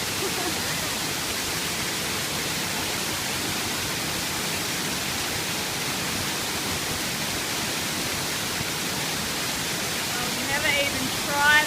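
Rainforest waterfall pouring in a dense, loud, unbroken roar while hair is washed beneath it, the rush steady throughout with a slight swell at the very end.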